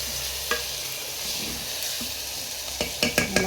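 A tomato rice mixture with turmeric and rock salt is stirred in a hot pan, soft sizzling under steady scraping, with a few sharper spoon knocks toward the end, close and without talk.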